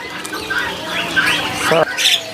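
Starlings chirping and squawking at a bird market kiosk, with repeated near chirps, whistles and one sharp squawk over a busy, murmuring market background.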